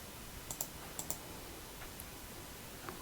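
A computer mouse gives a few sharp, faint clicks, two quick pairs and then single taps, close to the mic in a quiet room while someone works in a database tool.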